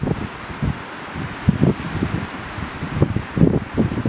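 Wind blowing across a lakeside campsite at the end of Broomstick Lake in the Adirondacks, a steady low rush with rustling gusts that swell and fade, loudest around the middle and end.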